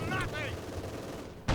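Machine gun fire from an MG42 in the Company of Heroes 2 game, heard as a rapid rattling burst with chattering streaks, followed by a sustained mix of battle noise and a sharp loud crack at the end.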